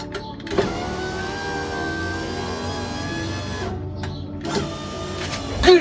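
The electric window of a wrecked VW Polo R Line, fitted with a new regulator and the original motor, runs in two long motorised whirring strokes with a short thunk between them and a clunk at the end.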